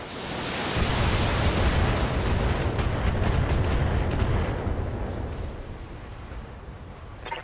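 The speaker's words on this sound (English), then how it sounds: "Firing on target." BattleTech mech weapons firing on a target produce a loud, sustained roaring barrage of blasts and impacts that swells and then tapers off, with no talking.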